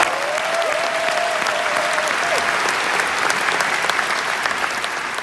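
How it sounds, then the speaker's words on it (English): An audience gives a speaker a dense, continuous round of applause that holds steady and stays loud, with a brief whistle early on. "Please give him a huge round of applause."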